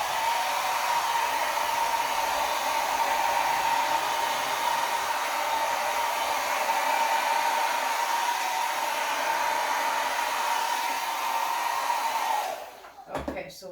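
A handheld blower, sounding like a hair dryer, runs steadily and close while pushing acrylic pour paint across a canvas, a constant whirring whine for about twelve seconds before it clicks off.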